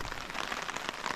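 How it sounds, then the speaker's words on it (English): Steady mountain rain falls, a dense hiss of drops pattering on surfaces, close by and continuous. "Still pouring rain out here."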